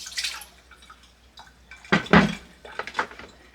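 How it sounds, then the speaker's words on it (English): Water from a bowl of freshly churned butter being poured down a kitchen drain, heard as clattering dish knocks and a few short splashes and drips, no voices. "So I want to pour this down the drain."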